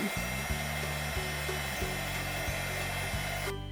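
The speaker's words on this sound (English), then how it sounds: "Now I'm going to harden it with my heat gun." A heat gun hardens UV resin on a custom pony necklace piece, giving a steady, loud blowing hum with a faintly pulsing motor tone that runs alone and unbroken, then cuts off abruptly at the end.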